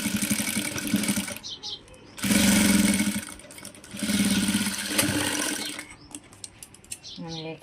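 A sewing machine stitches a princess cut blouse in three sustained whirring bursts separated by short pauses, close and clear, with light handling noise between runs.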